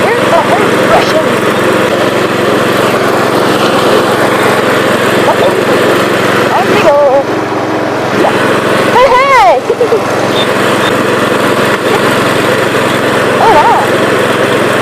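A lawn mower runs nearby in a yard, its engine buzzing loudly and constantly throughout while people talk and call out over it.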